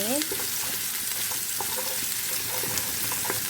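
Onions fry in oil with a dense, steady sizzle and a few light stirring scrapes, while a brief voice is heard at the start.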